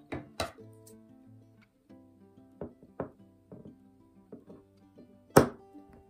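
Scissors or a blade cut through craft kit material in a series of sharp, irregular clicks and thunks, close and distinct against a quiet background.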